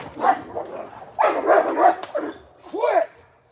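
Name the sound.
dogs barking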